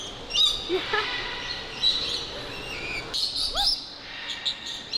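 Many birds chirp and whistle throughout an indoor aviary at Bird Kingdom in Niagara Falls, bright overlapping calls repeating close by with steady background hum.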